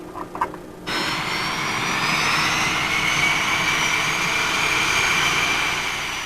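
Jet aircraft engines run at a steady, loud roar while taxiing, with a high whine over a broad rumble. A short burst of faint noise comes first, then the roar holds for the rest.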